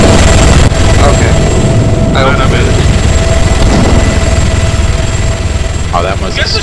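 A helicopter in a raid-style video game drones with a loud, steady, low rotor throb throughout, while players talk over it.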